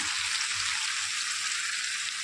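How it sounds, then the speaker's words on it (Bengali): A spice paste of ground coriander, chili powder, turmeric and salt frying in a pan with a splash of water gives a loud, steady, hissing sizzle that holds evenly throughout, with no voices. "একটু জল, সামান্য জল দিয়ে আগে কষিয়ে নেবো মশলাটা।"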